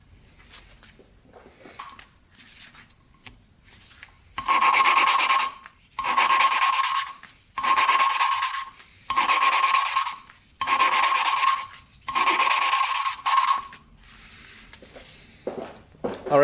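Valves are lapped by hand into a Yamaha Warrior cylinder head, giving a close, gritty rasping in seven regular bursts of about a second each, separated by short pauses, after a few quieter scrapes at the start.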